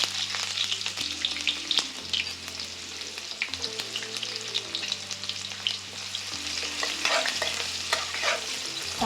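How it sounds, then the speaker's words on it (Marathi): Onion and cumin seeds sauté in hot oil for a Maharashtrian stuffed brinjal dish, a loud, constant close sizzle with crackling bursts and spatula scraping throughout, no talk, alongside a steady low background hum. "आता आपलं तेल गरम झालेलं आहे, त्याच्यामध्ये आपण थोडा जिरा घालायचा आणि कांदा घालून घ्यायचा।"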